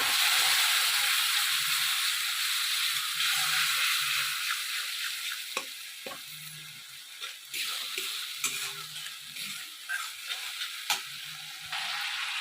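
Spiced masala for a homemade cabbage and paneer curry sizzling and frying in a pan after water is added, a continuous loud hiss with occasional stirring scrapes and clinks, close up and without talk.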